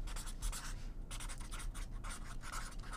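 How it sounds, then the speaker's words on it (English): Pen scratching on paper while writing a note, quick scribbling strokes in short bursts, faint and close in a quiet room. "Pardon me as I'm writing a note here."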